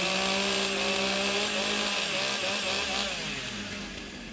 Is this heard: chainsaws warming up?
yes